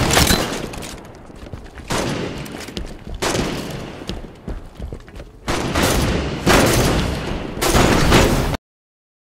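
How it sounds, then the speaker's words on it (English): Heavy video game gunfire in rapid volleys, loud booming bursts and rattling shots that come in waves with short lulls, ending in a sudden cut to silence. "Sniper fire! Targeted! Under fire!"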